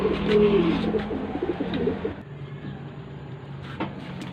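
Pigeons cooing in a coop after a storm, low soft coos close by in the first couple of seconds, fading to quieter background noise with faint distant calls.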